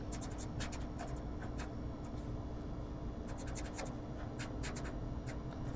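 Pen or marker writing by hand during a math lesson on solving equations, heard as light scratchy strokes in short bursts over a steady low background hum, with no talking.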